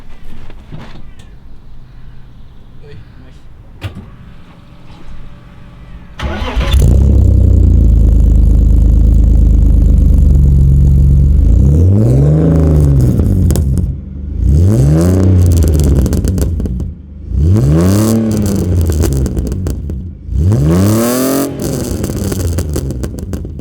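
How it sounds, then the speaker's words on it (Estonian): A nearly finished drift car's engine cranks over after a quiet stretch and fires up, then settles into a loud, close, rumbling idle. It is broken by several sharp revving bursts that climb and fall away. "Paneme siis korraks käima ka, et näidata, et see ikkagi töötab"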